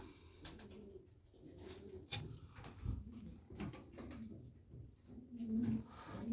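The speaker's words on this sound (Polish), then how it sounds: "No ładne te gołębie co widzę" Racing pigeons cooing softly in a loft, repeated low throaty coos at moderate distance with occasional clunks and knocks, fairly quiet overall.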